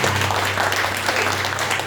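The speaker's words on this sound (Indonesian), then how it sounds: "Berikan tepuk tangan buat Tuhan" Congregational applause at a Christmas church service, a steady wash of many hands clapping together, loud and continuous with a low hum underneath.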